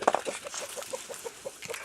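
Hens cluck softly in a steady series of short, close calls, with a couple of sharper squawks at the start.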